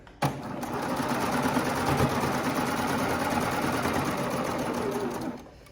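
A sewing machine stitching the raw edges of a legging together in one steady, continuous run of rapid close mechanical chatter lasting about five seconds, then stopping.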